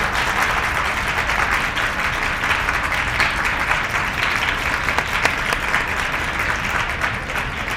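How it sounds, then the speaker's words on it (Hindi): Audience applause at a Vedic school consecration festival in Gothmanglod, a sustained, dense wash of many hands clapping at steady loudness for several seconds, with no pause. "जोरदार तालियां इन दोनों आचार्य वर्ग के लिए"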